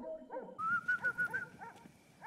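A dog in a horror film gives a short run of high, yelping barks or whimpers, about five quick closely spaced calls over a low ambient score, moderately loud and without speech.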